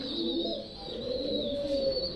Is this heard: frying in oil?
no